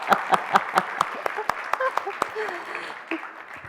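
An audience at a learning-innovation pitch battle claws out scattered, uneven applause as an applause meter, with sharp individual claps standing out and a voice talking over it.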